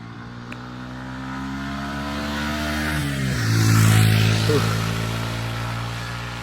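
A vehicle engine climbs in pitch as it revs on a mountain road up to a viewpoint, passing nearby with a swelling then easing roar over steady low droning.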